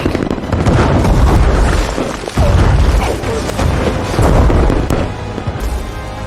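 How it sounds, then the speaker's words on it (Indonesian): Air strike explosions in an action film, heavy dense booming rumble with repeated blasts and a sharp cut near the middle, loud and continuous throughout. "Namun Alec sangat licik, dia menggunakan serangan udara sampai-sampai Clay mengetahuinya dari jauh."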